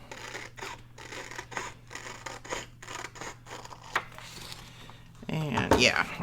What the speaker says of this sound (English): I'm just going to go ahead and cut this with my scissors